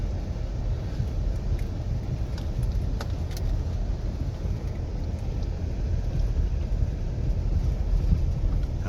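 A minivan grinds slowly over rocks up a rough hill, its engine a steady close rumble amid broadband crunching and rattles, with a few sharp clinks, no talk.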